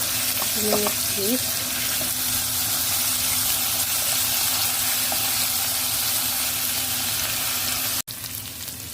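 Garlic sizzles hard in hot frying oil for stir-fried pancit bihon, a loud, steady, close hiss that runs throughout, with a brief voice early on and a short break near the end.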